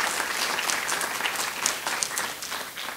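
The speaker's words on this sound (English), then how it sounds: "Would you give them a round of applause" Audience applause fills a short stretch after a request to thank sponsors at an artist talk, a steady dense clapping from a crowd, fairly loud and continuous without speech over it.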